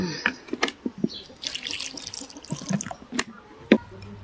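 Water is poured and splashed while wax cherries are washed by hand, irregular splashes, trickles and drips close by in short bursts, with small handling knocks between them.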